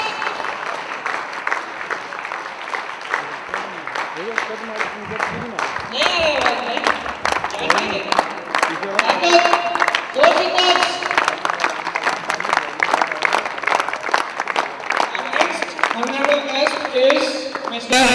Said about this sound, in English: Please big claps, big claps.